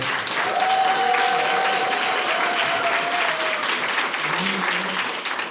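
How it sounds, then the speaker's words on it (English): An audience claps for the organizers at the signing of Montgomery County's rent stabilization bill: loud, dense applause throughout, with faint voices mixed in underneath. "Can I get a round of applause for all the organizers?"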